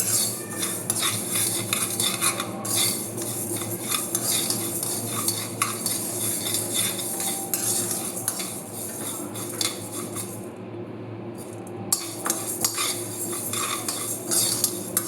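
Protein powder ingredients roasting in a pan, stirred continuously with a metal utensil that scrapes and clinks against the pan over a light sizzle, close and steady, with no voices.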